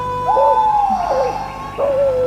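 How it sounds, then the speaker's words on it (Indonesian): Bird calls in a forest setting from a Saur Sepuh radio drama: a clear whistled call sliding down, a second call, then another after a short pause, all fairly close and loud over a faint steady background. "Burung kulik, burung tuhu juga."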